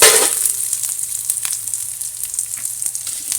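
Onion sautéing in a hot pan, with a bright continuous sizzle that flares at the start and then settles, plus occasional sharp crackles, close up with no talking.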